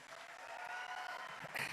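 An auditorium audience applauds for a music director at a film event, a dense, steady wash of clapping that swells slightly near the end.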